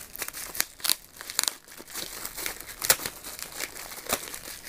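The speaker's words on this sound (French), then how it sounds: "On va enlever la petite pastille." Crinkly plastic packaging rustles and crackles as a sticker is peeled off the box of a Samsung Freestyle portable projector, a busy run of close crackling and tearing bursts with no voice over it.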